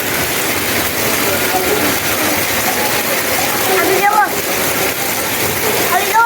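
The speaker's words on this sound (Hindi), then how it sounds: "बारिश हो रही है" Heavy rain pours down in a dense, continuous hiss, loud and steady throughout with no breaks.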